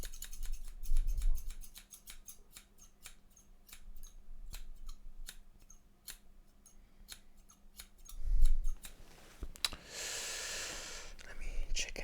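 Close, rapid-fire scissor snips from an ASMR virtual haircut fall in a dense, rhythmic run. Soft whispering and breathing sit underneath, and a brushing rustle comes near the end.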